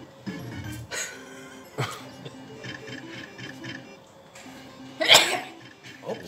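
A person sneezes once, sharp and close, in a room where a casino slot machine game plays quietly in the background, with a few other brief coughs and throat noises nearby.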